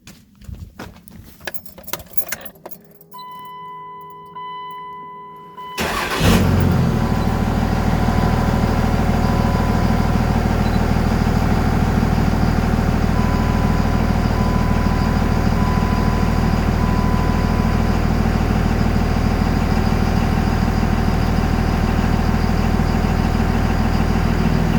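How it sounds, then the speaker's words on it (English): A 2nd gen Cummins diesel truck cranks after some jangling keys and fumbling, then fires up and settles into a steady, loud, low diesel idle that runs unbroken to the end. "So I'm going to start it."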